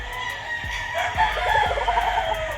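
A White Kelso gamefowl rooster crows nearby on a farm. The crow is loud and drawn out, with a rough, wavering tail over steady outdoor background noise.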